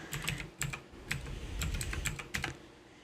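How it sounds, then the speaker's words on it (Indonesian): A password is typed on a computer keyboard in a quick run of light key clicks, with irregular bursts and brief pauses, soft and close by. "Kita ketikkan aja passwordnya."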